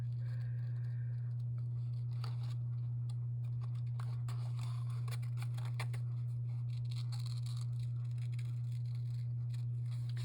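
Small Tim Holtz scissors snip and scrape through paper while fussy cutting, producing faint, irregular clicks and rustles close by over a steady low electrical hum, with no talking.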